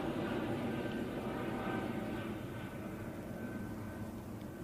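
At Manchester Airport a departing airplane on a short flight to Belfast produces a steady, broad engine roar that fades slightly over a few seconds, heard from a distance.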